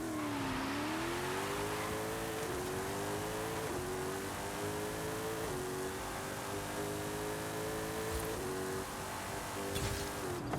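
The 2019 Ginetta G10 RM race car on a half-mile drag run in Forza Horizon 5, its engine roaring loud and up close, climbing in pitch and dropping briefly at each gear shift throughout.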